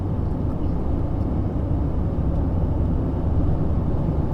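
A 2020 Perodua Bezza car rolls along the road toward a toll with no throttle, giving a loud steady cabin rumble of tyre and road noise and a low engine hum with no breaks.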